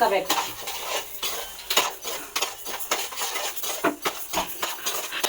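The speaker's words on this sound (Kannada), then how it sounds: "ಮೊದಲಿಗೆ ಇಲ್ಲಿ ಅಕ್ಕಿನ ಚೆನ್ನಾಗಿ ಹುರ್ಕೋತಾ ಇದ್ದಾರೆ" Rice being dry-roasted in a pan for a festival sweet, stirred with a metal spoon that scrapes and clinks against the pan in quick irregular strokes, close and fairly loud.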